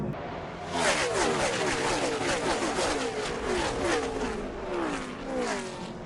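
A NASCAR stock car on a racing oval gets back on the throttle. A loud engine roar rises and falls over a broadband crowd and track wash, with faint commentary underneath.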